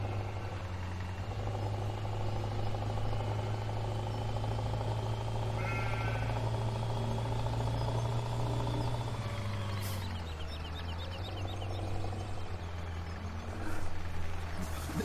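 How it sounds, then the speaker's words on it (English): A Scania truck idles in a farming video game, a steady low droning hum with a deep rumbling tone, shifting pitch slightly partway through, with faint chirps above and a brief clatter near the end. "This Scania sounds so funny."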